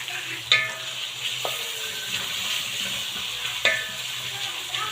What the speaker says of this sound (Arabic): هننزل دلوقتي بقى بالايه بالجزر اللي احنا بشرناه كده. نقلب برضه فيها كده شويه.